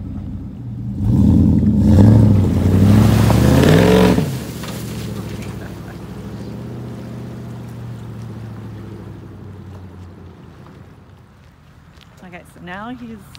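A truck pulls away, its engine rising loud and rumbling for a few seconds, then easing into a lower, steady drone that fades while people talk nearby.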